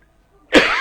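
One sudden, sharp cough breaks a near silence, close and loud.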